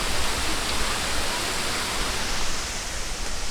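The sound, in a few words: waterfall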